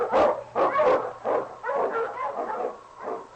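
Several sharp, yappy barks from a sled dog, an Eskimo lead dog, come in quick bursts over a faint low hum, staged as a radio drama sound effect and heard alone.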